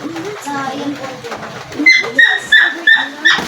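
A white dog whimpers and yelps in short repeated high cries while a person talks nearby.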